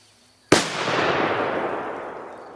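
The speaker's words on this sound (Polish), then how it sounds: "C4 zawsze mi się podobały te petardy" A PXP309 C4 firecracker of under 2 grams goes off outdoors in one sharp, loud bang, followed by a long, rolling echo that slowly fades over the next two seconds.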